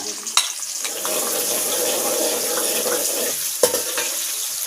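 Onions dropped into hot ghee in a pan for suhagna chicken, a steady close sizzle and crackle with a few sharp clinks of a utensil stirring.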